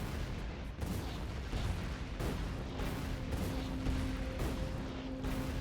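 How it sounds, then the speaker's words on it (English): Repeated grenade blasts in a video game blow apart a rock, landing as a dense run of heavy booms over a constant roaring rumble, loud and close, with no pauses between them. "Takes a lot of grenades to blow up a rock"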